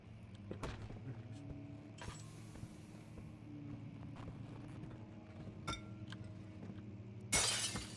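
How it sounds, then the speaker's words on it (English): Glass shatters in the horror game Amnesia, a window smashed with a brick: a sudden bright crash near the end bursts over a low droning ambient hum, with a few sharper clinks earlier in the clip. "I probably need to break the glass with a brick or something."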